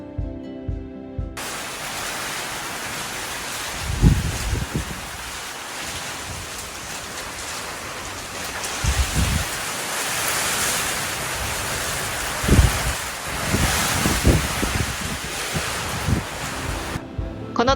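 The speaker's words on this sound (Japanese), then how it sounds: "なんせねものすごい雨風でした" Heavy rain and gusting wind roar outside a house, a dense continuous hiss with occasional low buffeting thumps, heard from indoors for nearly eighteen seconds without speech.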